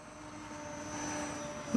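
A micro RC jet flies overhead, giving a steady, moderately loud whirring hum with a thin, high whine. There is a brief louder blip near the end and no talking.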